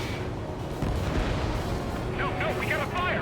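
A missile launch in a plane video game, a loud roaring rush of engine and exhaust noise sustained throughout, with brief voice chatter near the end.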